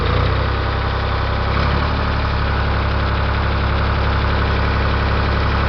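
A Ford 335 industrial tractor engine revs up from idle, a loud, close, steady diesel drone with a knocking rumble that rises slightly in pitch and stays constant.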